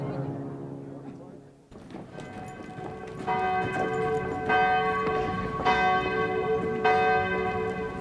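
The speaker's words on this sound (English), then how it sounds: "Church bells rang, mass was held, and prayers were said." Church bells peal in a small Normandy town near the D-Day beaches, with repeated resonant strokes that build to a sustained, overlapping ringing after a quieter start.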